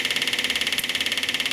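A rapidly pulsing engine runs steadily, its rhythmic throb repeating evenly throughout, close and fairly loud with no voices.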